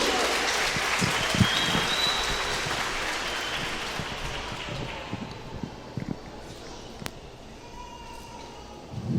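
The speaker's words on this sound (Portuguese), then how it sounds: "Vamos receber o pastor Juvenal com forte aplauso ao Senhor Jesus" A church congregation applauds loudly, the dense clapping gradually thinning and fading into scattered claps toward the end, with some voices mixed in.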